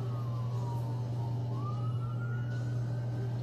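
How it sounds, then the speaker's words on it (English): An ambulance siren wails at a distance, its pitch slowly falling then rising again, over a steady low engine drone, at a casualty scene in Las Vegas. "Here comes another ambulance."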